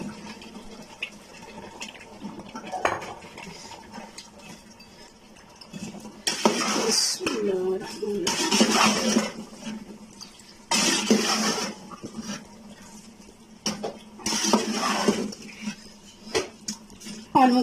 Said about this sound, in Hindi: आलू को भी हम 5 मिनट के लिए अच्छी तरह भून लेंगे।